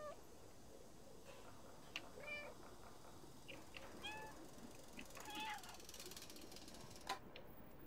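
Cat meows from the video game Stray, several short faint mews scattered across a busy background of game ambience and mechanical clicking.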